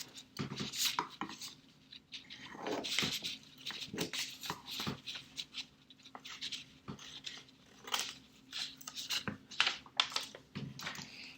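Scissors snip a paper triangle out of paper in short irregular bursts of crisp cutting and rustling, close and fairly quiet, with pauses between.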